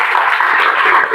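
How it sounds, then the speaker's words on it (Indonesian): A classroom breaks into brief, loud applause for a student group, a dense burst of many hands clapping together that lasts only a moment. "beri tepuk tangan untuk kelompok 3."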